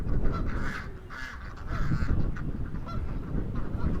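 Canada geese honk repeatedly at a duck farm, a flock calling close and loud in overlapping bursts over steady outdoor background noise, with no talking.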